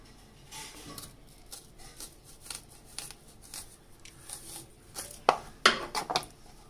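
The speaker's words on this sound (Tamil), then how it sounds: "நம்ம இது போல ரிங்ஸ் வரா மாதிரி கட் பண்ணிக்கலாம்" A knife slices an onion into rings on a board, giving a steady series of crisp, close chops that grow louder and sharper toward the end, with no talking.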